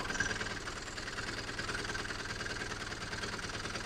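An Ape auto rickshaw engine runs at a steady idle, with a continuous low mechanical rumble and faint knocking pulse throughout, fairly quiet and without any talking.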